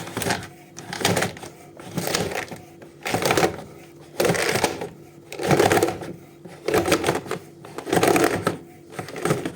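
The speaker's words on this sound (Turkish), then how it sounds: "öncelikle panjurumuzu topluyoruz" A roller shutter is gathered up by hand while its cord is being replaced, with rhythmic bursts of slats clattering and rattling, one after another with brief lulls between, at close range.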